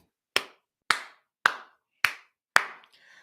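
Five crisp, close hand slaps landing at a steady rhythm roughly every half second, each short and bright with a quick decay, then a brief faint noise after the last one.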